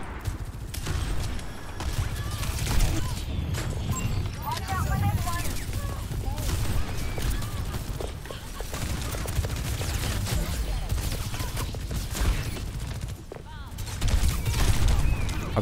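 Rapid, dense gunfire from an Overwatch match, continuous crackling bursts with heavy low-end impacts over game noise, while a player talks now and then.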